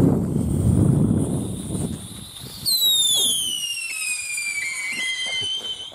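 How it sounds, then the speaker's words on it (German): Funkeheuler whistling firework rockets launched at New Year: a rushing burst of launch noise, then several shrill whistles sliding downward in pitch as the rockets climb away, overlapping and fading with distance. "mit den Funkeheulern. Die Dinger machen echt Spaß."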